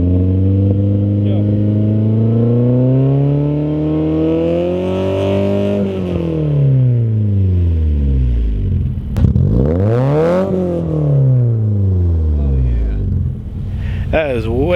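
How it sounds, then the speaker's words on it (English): A 2-liter VVT car engine with an HKS exhaust revs up and down repeatedly, the loud rising and falling note swelling and dropping in two clear sweeps, then a sharp crackle near the end. "The HKS has a very distinct sound, and given that's a VVT 2 liter, it's gonna have a different sound as well."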